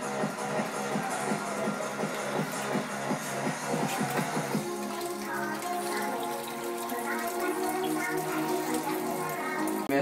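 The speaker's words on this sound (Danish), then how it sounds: "Så lad os prøve at hælde vandet fra." Pasta cooking water pours out steadily, a continuous splashing rush of water into a sink, dense and fairly close, with a shift partway through to a lighter trickling and bubbling.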